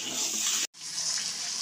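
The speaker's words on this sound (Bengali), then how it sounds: "এরপর আমি জল ঢেলে দেবো।" Water is poured into chicken gravy in a pan, a steady, loud splashing gush that breaks off for an instant and then continues.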